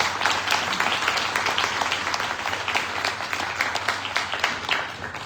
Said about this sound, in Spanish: Pido también un aplauso para Tomás.